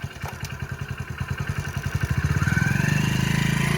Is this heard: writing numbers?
no